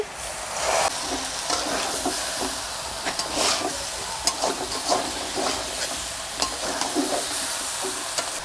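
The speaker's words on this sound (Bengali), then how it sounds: "ভালো করে কষে নিয়েছি, জল দিয়ে দিচ্ছি।" Prawns and jackfruit sizzle and hiss steadily in a pan for a winter jackfruit curry, with repeated scraping stirs breaking through the frying noise, close and fairly loud throughout.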